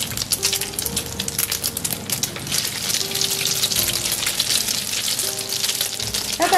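Long eggplant slices coated in egg batter deep-frying in hot oil: a steady, close crackling sizzle with dense popping bubbles throughout, no one talking.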